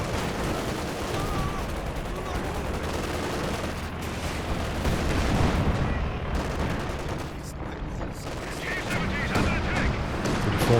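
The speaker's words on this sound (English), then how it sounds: "Su-76 barrages coming in too" Su-76 artillery barrage in Company of Heroes 2 rumbles through a dense, continuous wall of battlefield noise, with booming impacts and crackling gunfire layered under a steady roar, loud and unbroken throughout.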